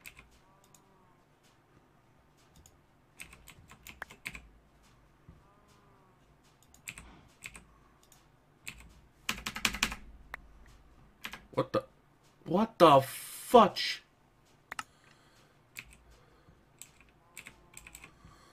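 Bursts of computer keyboard typing during a Minecraft session, with irregular clusters of clicky key presses and a loud flurry of hard hits near the end, mixed with occasional short spoken remarks.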